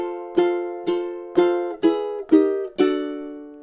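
Ukulele playing measure 4 of a song: six evenly spaced bright plucked strums over about three seconds, each ringing briefly before the next, played alone with no voice.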